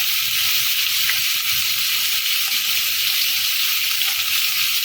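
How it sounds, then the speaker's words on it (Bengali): Potatoes frying lightly in oil in a pan with salt, giving a steady soft sizzle and hiss that holds evenly throughout, close and alone. "আলুগুলো একটু হালকা করে ভেজে নেব"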